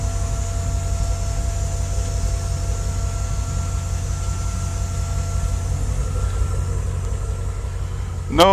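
A 2002 GMC Blue Bird Handybus with an 8.1-liter engine idles steadily, a loud, even low rumble that continues alone throughout. A sharp brief sound comes at the very end.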